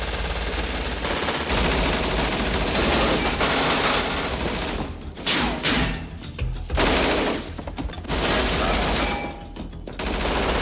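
An MP5 submachine gun fires in a movie action scene, dense sustained automatic bursts mixed with other gunfire and impacts, loud and continuous with a brief lull midway.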